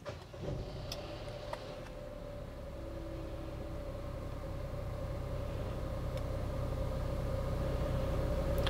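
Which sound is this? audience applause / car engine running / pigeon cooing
car engine running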